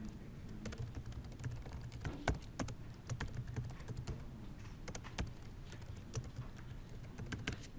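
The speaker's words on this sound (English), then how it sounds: "Now, you might have heard my typing," Rapid typing on a computer keyboard, steady clicking keystrokes with short pauses, close and fairly quiet with no talking.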